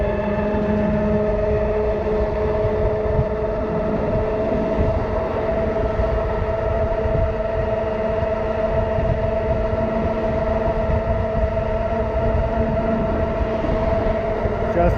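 Juiced HyperScrambler electric bike ridden at full throttle on flat ground along a bike trail, giving a steady, loud whine with constant tonal hum and rushing wind noise that holds even throughout.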